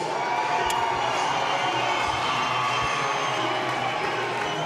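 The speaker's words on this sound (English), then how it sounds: "you hear the crowd behind me" Dense crowd noise at a local MMA fight night as fighter Marcus Vigil walks to the red corner, a steady roar of cheering and shouting that fills the hall without pause.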